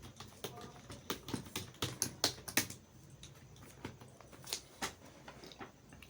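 Close, quiet keystrokes clatter on a computer keyboard in quick uneven bursts, denser at first, then sparser taps after a short pause.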